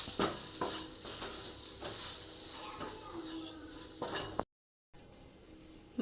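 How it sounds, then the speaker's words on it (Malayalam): Coriander powder being stirred in a hot pan for egg curry, close scraping and sizzling strokes in a steady rhythm, with a brief silent gap near the end. "മല്ലിപ്പൊടി നമ്മളൊന്ന് ഇളക്കി വിടും അതിൻ്റെ പച്ച ചുവയൊന്ന് മാറുന്നത് വരെ ഒന്ന് ഇളക്കാം"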